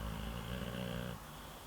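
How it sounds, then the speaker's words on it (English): Snoring rasps close by, a loud, rough, buzzing breath that holds for about a second before tailing off into a quieter exhale, with no talking. "How come you snoring with your eyes open?"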